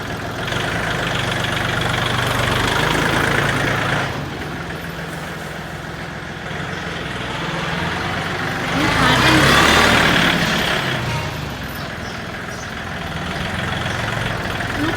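A nearby used 39-horsepower engine idles with a steady, low rumble that swells and eases a few times, as if revved lightly.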